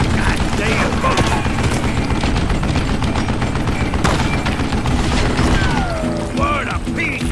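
Gunfire from the western video game Call of Juarez Gunslinger: dense volleys of shots and impacts in a chaotic firefight, with a voice talking over the action.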